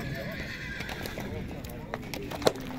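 At a horse market in Bishkek, a horse gives a short, faint whinny among low crowd murmur and scattered hoof knocks, with people talking in the background.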